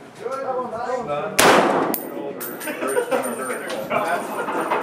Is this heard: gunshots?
yes